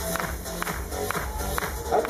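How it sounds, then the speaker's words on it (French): Audience applause at a Club Med Beldi show, steady crowd clapping and cheering spread across the whole moment, with a busy background and scattered louder claps. "Ah, là c'est des applaudissements, hein"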